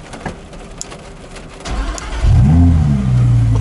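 The V10 engine of an Audi R8 GT4 race car cranks and fires after quiet clicks, then revs loudly close by and settles into a strong, throbbing idle.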